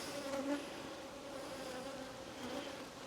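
Honey bees buzz close around the camera at a hive after being disturbed, a steady faint drone with a few louder passes.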